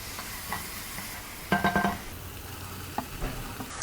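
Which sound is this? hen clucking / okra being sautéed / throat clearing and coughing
okra being sautéed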